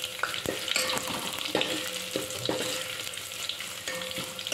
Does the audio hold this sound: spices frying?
yes